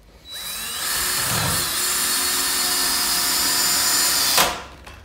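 A power drill drives a 2-inch cabinet screw into pallet wood, spinning up to a steady whining buzz for several seconds before a sharp bite at the end and wind-down, close and loud with no talk.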